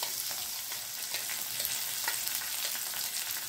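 Curry leaves and ginger-chili paste frying in a pan with cumin, a steady close sizzle and crackle throughout with small stirring pops, no voices.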